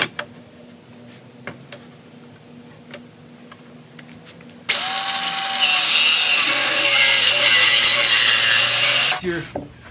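A power sander grinds across a glued-up wooden cutting board with coarse grit, a loud steady roar that kicks in midway after a few quiet knocks and runs about four seconds before cutting off.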